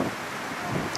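Steady outdoor wind blowing throughout, a broad continuous rush with gusty swells, loud and close to the microphone with no voices.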